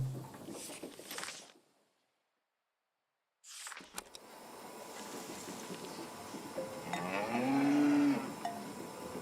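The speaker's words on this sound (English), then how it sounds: "Farmer Layton's cows." Cows from the game Seasons: A Letter to the Future give deep, drawn-out moos with a bell-like clank and light pattering, after a brief silent gap, building louder toward the end.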